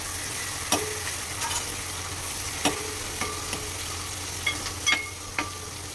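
Ingredients sauté in a pan for a mackerel fish curry, producing a soft, steady close sizzle with occasional sharp clicks of a spoon stirring against the pan.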